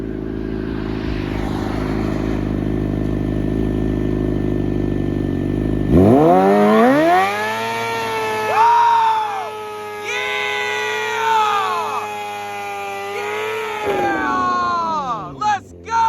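A tuned 2020 Suzuki GSX-R750 sport bike idles loudly with a deep rumble, then revs hard several times, pitch climbing and dropping, with faint crowd noise behind and a few sharp pops near the end.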